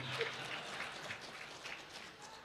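Faint crowd applause at an Indonesian religious talk, a soft continuous patter of many hands heard from a distance, low and even across the whole stretch.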